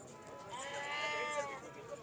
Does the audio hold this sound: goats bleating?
yes